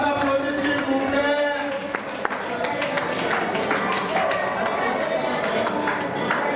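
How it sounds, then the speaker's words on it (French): Audience applause at a lively show, dense and continuous, mixed with crowd noise and chatter, loud and close throughout. "Tous vos applaudissements, s'il vous plaît"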